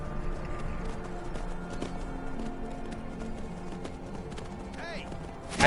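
Horse hooves in the video game Skyrim, a rapid run of clip-clop hoofbeats at moderate level, with someone talking over the game sounds.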